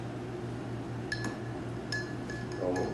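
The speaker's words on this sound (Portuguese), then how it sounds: "vou mexer para diluir essa geleia" A utensil stirring hot water in a glass to dissolve jam at a bar counter, giving several light, close clinks against the glass over a steady low hum, with no talk.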